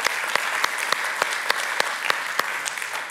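Steady crowd applause with many hands clapping, a few sharper claps standing out, continuous and fairly loud throughout.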